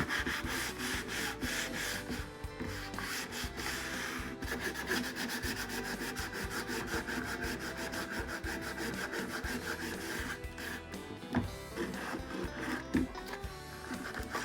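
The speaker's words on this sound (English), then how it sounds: "now we're going to go ahead and sand to bring out some of the darkness" Steady, continuous sanding of painted wood being distressed for farmhouse-style decor, a close, loud abrasive rubbing that runs the whole time without pause and with no talking.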